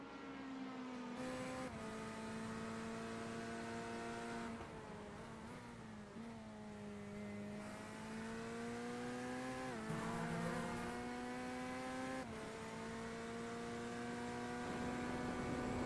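A GT3 race car engine at Watkins Glen screams through an onboard fast lap in a sim racing game, its pitch climbing through the gears with sharp drops at each shift and under braking, loud and continuous with no voices.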